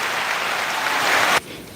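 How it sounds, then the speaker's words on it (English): Dense applause from a crowd carries on steadily and loud for over a second, then cuts off abruptly, leaving a quieter room tone with a faint trailing clap at the end. "Little clap."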